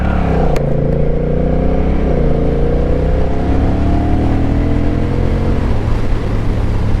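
A Honda Rebel DCT motorcycle engine accelerates in standard throttle mode. It holds a loud, steady drone whose pitch climbs smoothly, then drops with automatic gear shifts before climbing again, with no talk.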